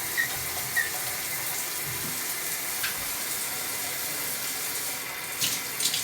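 Water running steadily from an ALDI LED temperature shower head, a constant hissing spray with faint squeaks and a brief splashy change near the end, heard close and alone without speech.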